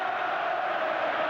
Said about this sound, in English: Listen to the crowd though.